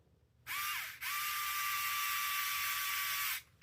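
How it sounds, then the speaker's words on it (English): A small screw is driven into the steering link of an FMS FCX10 Toyota Land Cruiser LC80 RC crawler. A powered driver gives a close, steady high motor whine: a short burst, a brief pause, then a longer continuous run. No speech. "It puts the screw in the hole."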